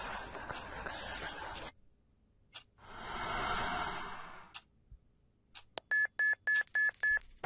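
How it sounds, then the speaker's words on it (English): A phone's text message notification sounds as a quick string of five or six bright, evenly spaced beeps, following muffled noisy passages and a few soft thumps. "A text message."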